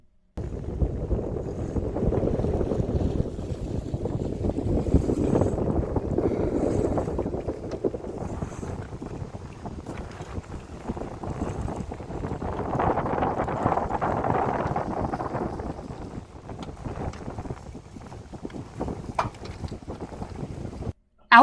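Boat motoring at sea on one engine in calm weather, a steady low engine rumble mixed with wind buffeting and water rush, continuous throughout without talk.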